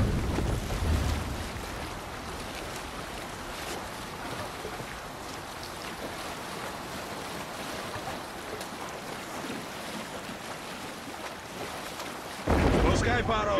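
A longship sails on the river Dee in Assassin's Creed Valhalla, with continuous water wash and wind across the hull, mid-distance and steady, and a louder splash or surge at the end.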